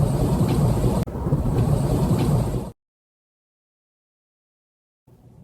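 A thunder and lightning effect for a comedic portrayal of Zeus: a loud, close crash rolls into a steady rumble for nearly three seconds, then cuts to silence before a faint return.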